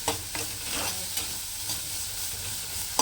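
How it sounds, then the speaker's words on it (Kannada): Ingredients sizzle steadily in a pan while upsaru is cooked, with occasional stirring scrapes and clinks breaking through a constant low frying hiss. "ಸ್ವಲ್ಪ ಫ್ರೈ ಆಗಬೇಕು."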